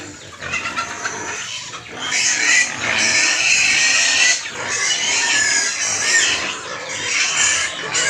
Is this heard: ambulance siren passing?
no